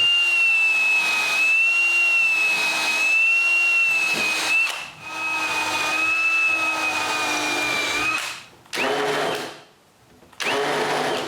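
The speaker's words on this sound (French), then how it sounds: "je vais percer les trous dans le cadre pour les vis qui vont retenir les pentures" A power drill bores screw holes for hinges into the wooden frame of a stair gate, its high whine running in long bursts that stop briefly and start again, close by.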